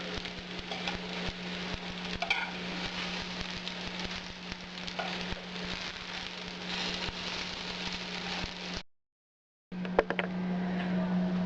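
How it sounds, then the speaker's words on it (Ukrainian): Continuous crackling sizzle of wheat-groat meatballs frying in a pan, steady and close, with a brief silent gap near the end before the sizzling returns. "Я стараюся їх обжарювати з кожного боку"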